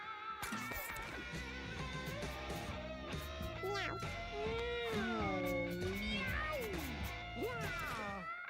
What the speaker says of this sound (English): There are literally too many cats.